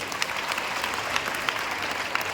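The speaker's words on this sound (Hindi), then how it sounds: "जोरदार तालियां बजाएं पहले" Loud, steady applause from a room of schoolgirls at a career counselling session in a senior secondary school, dense, continuous clapping throughout with no pauses.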